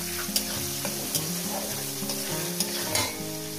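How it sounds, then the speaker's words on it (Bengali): Chopped onions frying in a pan over medium heat for a radish chicken curry, a steady close sizzle with occasional stirring scrapes, under a faint low musical hum and no talking. "পেঁয়াজ কুচোটাকে দিয়ে মিনিমাম 2-3 মিনিট ভেজে নেব"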